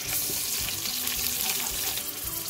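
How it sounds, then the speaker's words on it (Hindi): Ginger and garlic paste frying with browning onions in a pan, a steady soft sizzle with a watery hiss running throughout, close and fairly quiet. "ये देखें अदरक लहसुन भी जो है मैंने इसमें 1 मिनट के लिए ऐसे थोड़ा फ्राई किया।"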